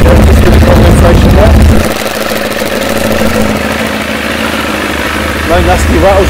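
Kawasaki ZX9R Ninja motorcycle idling nearby after start-up, a steady, loud mid-pitched engine drone with a brief deeper rumble at the start, while someone talks over it.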